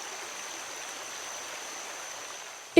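River water flowing steadily in a soft, even wash, alone, with a brief sharp knock at the very end.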